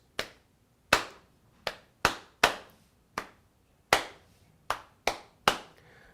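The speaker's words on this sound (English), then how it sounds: "we have a pattern to clap, which is not with the backing track, it's just free time" Ten crisp, close hand claps form a free-time rhythmic pattern with uneven gaps between them, each clap sharp and quickly decaying in a quiet room, with no backing music.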